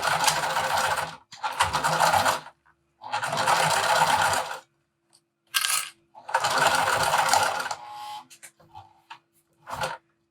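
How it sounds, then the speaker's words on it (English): A sewing machine stitches a vinyl wristlet seam in several bursts of rapid, close mechanical chattering, each lasting about a second, separated by short pauses and a few brief clicks. "And now we're going to sew it at our full seam allowance."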